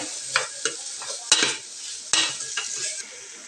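Paneer cubes frying in a pan, stirred with a utensil: a steady sizzle with sharp scraping clacks of the spoon against the pan at irregular intervals, close and fairly loud, with no talking.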